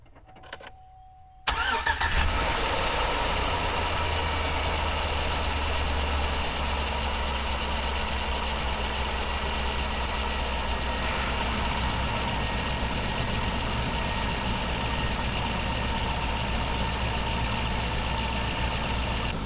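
A boosted Honda Accord cranks briefly and catches, then settles into a steady, even idle that continues for a long stretch nearby.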